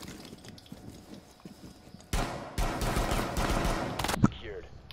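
Gunfire from the tactical shooter game Rainbow Six breaks out as a loud, dense volley of rapid shots after a quieter stretch, with a sharp crack near the end.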